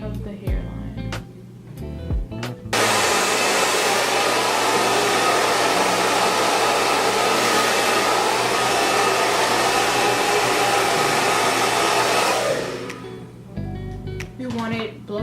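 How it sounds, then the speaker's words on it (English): A hair dryer blow-drying product into a frontal bob wig near the hairline, a loud steady whooshing roar lasting about ten seconds, with a voice talking before and after it. "We want it blow dry just enough where it begins to kind of clear, but it's still tacky."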